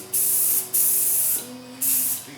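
Paint sprays from a can or airbrush onto a model Cessna 310 aircraft in three close, hissing bursts of roughly half a second each, separated by short pauses, with a faint background hum and no talk.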